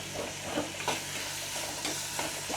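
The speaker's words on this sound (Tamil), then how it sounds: "சேர்த்து நன்றாக கிளறவும்" A wooden spoon stirs food in a hot pan: steady scraping strokes and a few louder swishes over continuous close sizzling, with no voices.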